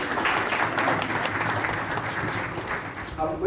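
Steady applause from an audience of social organisations gathered for an anti-drug campaign event in Hisar, a dense continuous roar of many hands clapping that fills the whole stretch at even strength.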